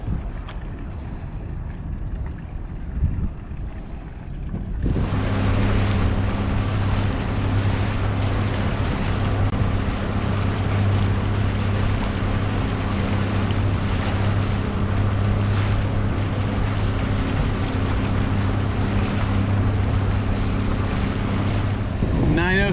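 Sailboat motoring off a mooring on the ocean near Catalina Island, a steady low engine drone with wind and water noise starting suddenly after a quieter opening and continuing evenly throughout.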